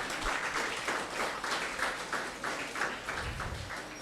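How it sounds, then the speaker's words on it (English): An audience at the AVGC-XR Summit gives dignitaries a round of applause, with rhythmic, fairly even clapping from a seated crowd in a hall, steady throughout. "Let us give a big round of applause to our dignitaries."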